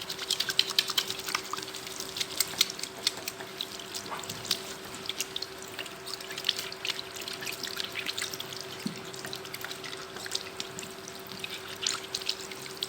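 A steady stream of tap water runs while hands are washed at a sink after removing gloves in a clinical setting, with irregular splashes and clicks over the flow and no talking.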